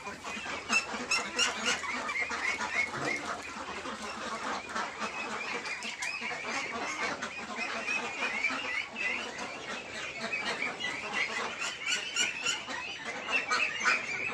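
Ducks on a farm after feeding, raising a steady chorus of overlapping quacks and calls that carries on without a break throughout.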